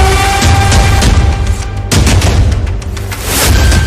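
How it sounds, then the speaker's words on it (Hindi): Katyusha rockets launched from Lebanon, a loud, continuous rush of roaring blasts and dense booms that briefly dips before surging again, with no voices. "रविवार की सुबह जब उन 320 कत्यूशा रॉकेट को लेबनान की धरती से दागा गया"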